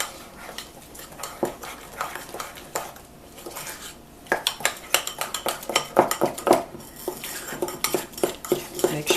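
A utensil stirs baking soda into sourdough oatmeal cookie batter in a bowl, giving quick clinks and scrapes that start sparse and grow busier and more rhythmic, close and clear, with no talking.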